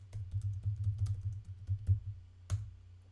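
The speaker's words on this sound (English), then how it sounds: "if you're getting your ASMR from me clicking on the keyboard" Close, crisp clicking on a computer keyboard in quick uneven bursts, with a louder single click near the end and no talk over it.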